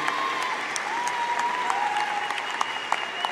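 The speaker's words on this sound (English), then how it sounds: "Give these people a round of applause." Audience applause at a 2018 graduation ceremony, a steady, dense wash of clapping from a large crowd sustained throughout, with a faint tonal whine running underneath.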